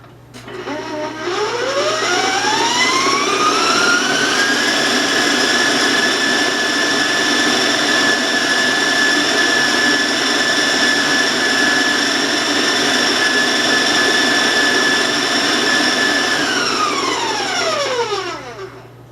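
A loud, high-pitched electric mixer motor whine, beating butter into sugar cookie dough, ramps up in pitch, holds a steady high speed for a long stretch, then winds back down at the end.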